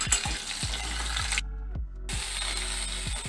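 Potato, pumpkin and pointed gourd fry in a pan with panch phoron, a continuous close sizzle broken by repeated scraping stirs and a brief drop-out near the middle.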